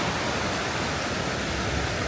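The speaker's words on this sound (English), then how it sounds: "this waterfall here, the water level gets up so high that you don't even see the rock" A steady, broadband rush of a waterfall in the Porcupine Mountains, Wisconsin area, constant and fairly loud without variation or voices.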